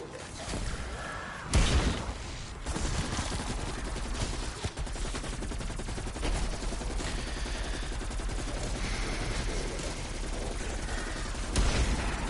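Weapon fire in Call of Duty Cold War Zombies during a high-round attempt: dense, sustained rapid shots roll on for seconds with a few louder blasts standing out, and no voices.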